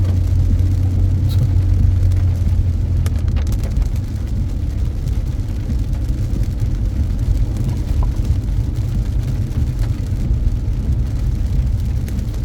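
A car driving through heavy rain in Montréal, heard from inside as a steady, loud low rumble of road and engine noise that continues without a break.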